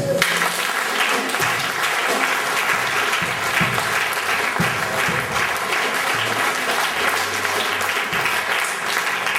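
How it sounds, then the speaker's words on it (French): Congregation at a French-language church service applauding steadily to acclaim God, a dense, continuous wash of clapping from many hands with some cheering voices mixed in. "Est-ce que tu peux acclamer Dieu?"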